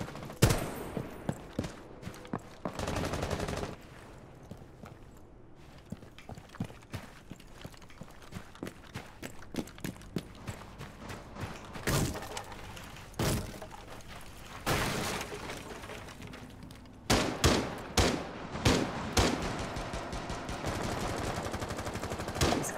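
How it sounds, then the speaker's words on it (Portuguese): Rapid bursts of automatic rifle and pistol gunfire in the tactical shooter video game Rainbow Six Siege, loud and close, in scattered volleys with short pauses and footsteps between them. "Hora de estourar os tiros."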